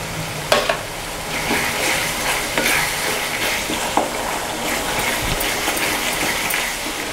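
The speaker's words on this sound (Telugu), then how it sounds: "పులిహోర పులుసుని మధ్య మధ్యలో అడుగంటకుండా ఈ విధంగా కలుపుకోవాలి" Tamarind pulp sauce for pulihora being stirred in a pan as it cooks, a steady bubbling sizzle broken by scattered scrapes and clicks of the spoon against the pan.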